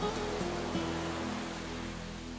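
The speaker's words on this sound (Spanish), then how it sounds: "Observa cómo se deshacen las olas en la arena." Steady broadband wash of ocean waves breaking on sand, loud and continuous with a low hum underneath, no distinct individual crashes.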